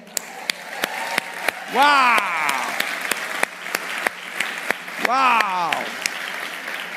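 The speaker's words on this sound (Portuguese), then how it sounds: "Todo mundo na salva de palmas" Audience applause at a New Year countdown, a steady clapping bed punctuated by regular sharp ticks, with two excited shouts rising above it.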